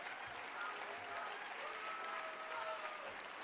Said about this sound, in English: Let's clap our hands for freedom of speech in this country.